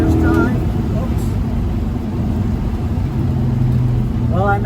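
Loud, steady engine drone from a 1970 El Camino with a Turbo 400 automatic transmission, heard from inside the cab as it pulls through the gears, with faint whining shifts near the start and end.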